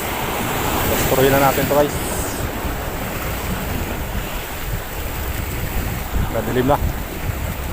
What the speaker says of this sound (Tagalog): galit na galit yung dagat guys.